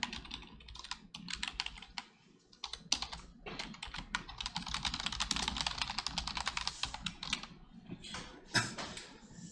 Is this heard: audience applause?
no